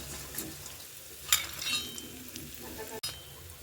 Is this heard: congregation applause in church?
no